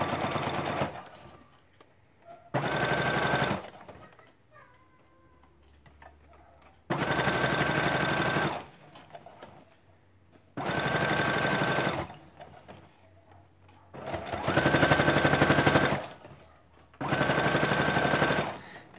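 Sewing machine stitching bias binding around a curved corner, running in five bursts of steady rapid stitching separated by short pauses, close and fairly loud with no talk.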